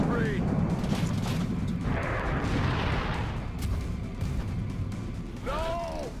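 Gunfire and heavy blasts fill a battle in XCOM: Enemy Unknown, with rapid, continuous bursts and rumbling impacts, and rising electronic whines at the start and near the end.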